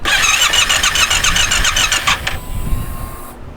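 A car engine cranks and catches with a loud rattling run for about two seconds, then cuts to a quieter idle hum before stopping.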